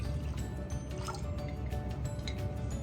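Vanilla extract, a tablespoon's worth, pours into a pot of cooked mixture after the heat is turned off, giving soft, steady liquid dripping and trickling close by, with no talking.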